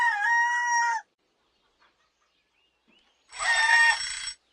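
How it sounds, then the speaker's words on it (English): A rooster crows twice, loud and near, each call about a second long, separated by a few seconds of near silence. "The rooster sings at daybreak."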